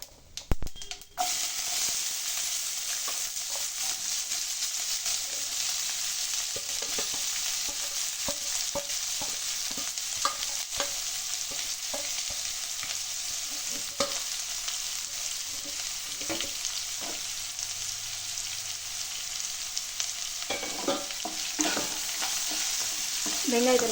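Onions sautéing in a hot pan for tomato thokku, a loud continuous sizzle broken by repeated scraping and stirring clicks of a spoon against the pan, with no talking.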